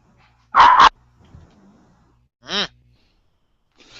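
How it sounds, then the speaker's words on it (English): Dogs barking during a live podcast recording, one loud close bark burst followed later by a shorter yip and soft whimpering noises, with quiet room hum between. "Dogs are saucy."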